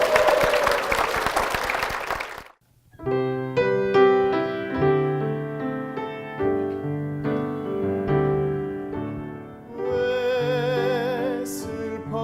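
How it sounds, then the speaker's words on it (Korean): A church congregation breaks into a short, loud burst of applause lasting about two and a half seconds, followed by a congregation singing a hymn with instruments. "큰 박수 부탁드리겠습니다"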